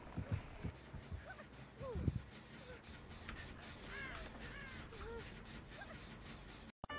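Crows caw in Dead by Daylight, with several harsh calls scattered across the clip over a low rumbling game backdrop and a few thumps near the start.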